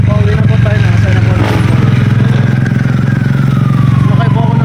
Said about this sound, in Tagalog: Sumakay po ako ng motor kasi wala pong jeep na nadaan po dito.